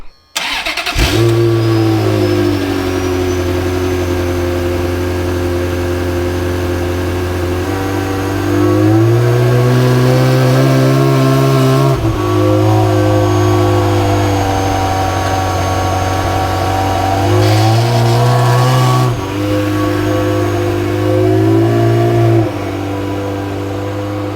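A Ferrari 355 F1 engine starts and revs repeatedly, a loud, throaty roar rising and falling over a steady idle, close by.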